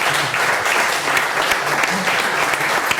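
Audience applause at a round-table panel on municipal Europe greeting a Catalan parliament deputy, dense sustained clapping from a seated crowd, loud and even across the short stretch.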